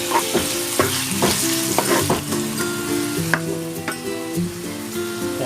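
Tomatoes fry and sizzle in a pan while being stirred for a mussel dish, a steady hiss broken by clinks and scrapes of the utensil against the pan, close and fairly loud, with no talking.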